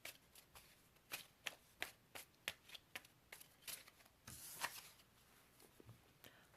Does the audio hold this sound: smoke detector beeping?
no